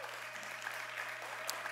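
Audience applause at a Third World Press event at Kennedy-King College, a steady wash of clapping filling the whole stretch at moderate level with no talk over it.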